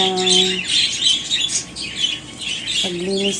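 Pet birds chirp and squawk in their cage, a dense, continuous chatter of high calls heard close by, with a tonal voice-like sound briefly at the start and end.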